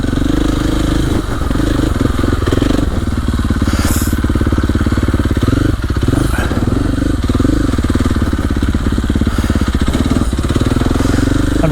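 A four-stroke dirt bike ridden on a wooded trail, its engine loud and close, lugging and revving in uneven surges with some mechanical clatter throughout.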